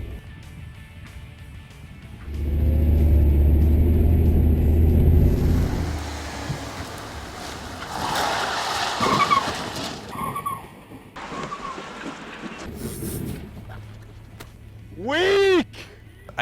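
A van spins through a Rockford-style 180 turn on pavement, its engine rumbling loudly while tires scrub and skid. Engine noise and tire noise continue through the manoeuvre, with a short high squeal near the end.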